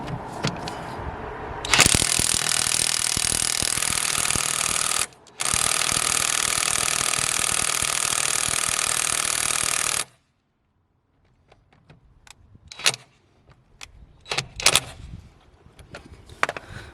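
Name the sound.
cordless Parkside impact wrench running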